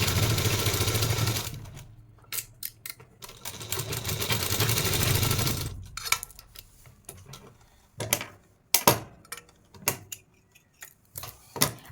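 A sewing machine runs in a sustained close whir while stitching a salwar pocket, then gives way to short bursts of stitching separated by pauses and small handling clicks.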